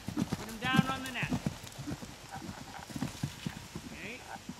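Horse hooves clip-clop in a steady rhythm at a riding lesson working over barrels, close and clear, with an instructor's voice talking over the strides and a brief whinny-like sound.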